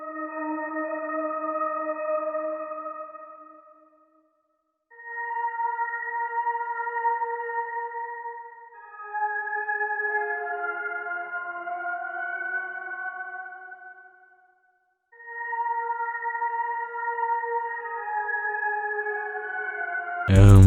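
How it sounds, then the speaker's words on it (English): Processed synth pad made in FL Studio for an R&B sample, with a high top melody over sustained chords. Long smooth phrases are split by short gaps, and a sudden loud burst closes the passage. "Then we have the same pad, but it's like a little top melody"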